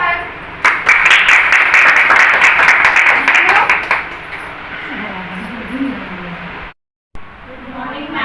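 Students clap for their teacher at an Independence Day celebration in a classroom. A burst of brisk, crowded clapping starts abruptly, stays loud for about three seconds, then thins out and fades into quiet room sound and a low voice.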